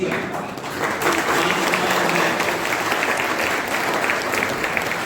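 A crowded hall at a student felicitation seminar in Gorakhpur breaks into loud, continuous applause, many hands clapping at a steady, dense level from start to finish.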